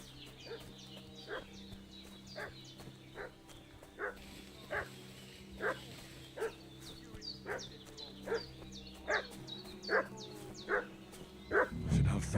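A dog in Kingdom Come: Deliverance II barks repeatedly at an even pace from a moderate distance, each bark short and sharp over quiet ambience, with faint talk nearby.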